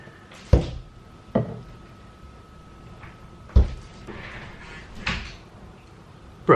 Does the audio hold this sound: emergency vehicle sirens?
no